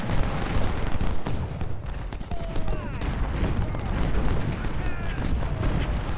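Artillery booms in the Civil War strategy game Ultimate General: Civil War, repeated heavy thuds and distant cannon reports rolling over a dense battle din, with someone talking over the fire.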